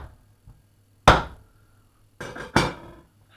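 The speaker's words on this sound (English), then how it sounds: "scrape down the thigh bone, scrape down the drumstick" A knife scrapes down a raw chicken thigh bone and drumstick, giving three sharp, close scraping strokes, one alone and then two in quick succession, with quiet pauses between.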